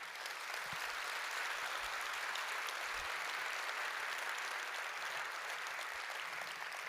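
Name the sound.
audience applause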